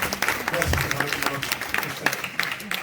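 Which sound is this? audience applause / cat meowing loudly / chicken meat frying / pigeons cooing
audience applause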